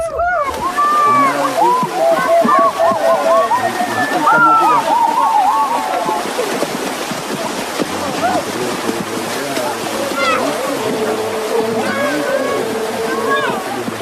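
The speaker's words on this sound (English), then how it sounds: "the men head for a small river on the other side of the village to bathe" Men bathing in a small river on the far side of a village in the Amazon, with continuous sloshing and splashing water close by beneath a steady stream of overlapping voices and calls.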